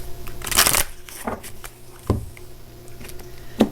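A deck of Luna Tarot cards is shuffled up close, with a loud riffling burst followed by several lighter flicks and taps of the cards over a few seconds, and no voice.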